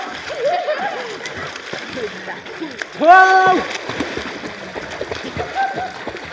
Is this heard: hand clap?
no